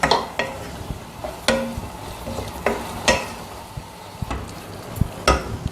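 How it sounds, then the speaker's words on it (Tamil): A ladle stirs fried bitter gourd into masala for a sambar, giving a series of scraping, clattering strokes against the pan over a soft continuous sizzle, close and fairly loud with no talking. "அதனால் நம்ம போட்டு அதை நல்லா கிளறிடலாம்."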